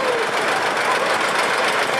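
A 1952 John Deere tractor passing in a town parade gives a steady, loud engine chug under broadband crowd and street noise.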